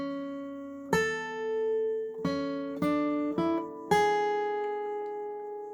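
A guitar picked one note at a time plays the opening melody of a song, five or six clear notes in an unhurried rhythm, each left to ring and fade, close and alone with no voice.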